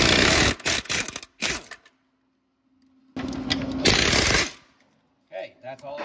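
Impact wrench spinning off cab bolts on a Ford F350 with a 6.0 Powerstroke, loud rattling hammering bursts in several short runs with pauses between, close by, a voice talking briefly near the end.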